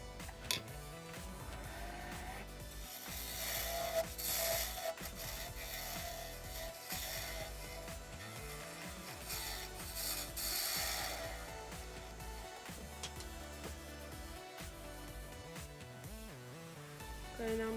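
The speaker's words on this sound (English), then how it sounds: "we're going to finish it off by using my diamond tip carbide tool and getting it in there so that it comes off nice and easy" Wood lathe spinning a wooden top while a diamond-tip carbide tool cuts it, giving a steady close mechanical whir with rubbing, scraping tool contact that varies in intensity across the stretch, without speech.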